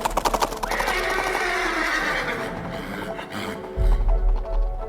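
Horse whinnying loudly with a prolonged neigh, followed by a deep thud and heavy hoofbeats near the end, with no talking over it.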